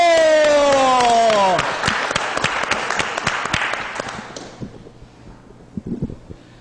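Applause for Professor Donato at an afternoon show: a crowd claps briskly after a sustained musical tone cuts off, the clapping thinning into scattered claps and fading out.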